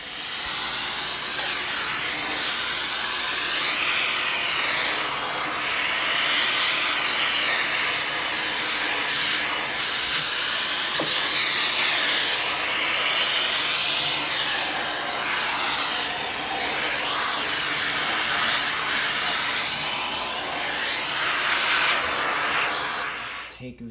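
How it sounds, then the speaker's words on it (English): A steady, loud shop vacuum roars continuously with a broad hissing whine while sucking fly ash from a Woodstock Soapstone Ideal Steel wood stove, shifting slightly in pitch as the nozzle moves, with no talking. "I actually think I'm going to vacuum that off before I lift that out."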